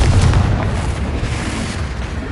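Confringo blasting spell going off in Hogwarts Legacy, a loud, dense booming explosion with a heavy low rumble that stays strong through the short burst.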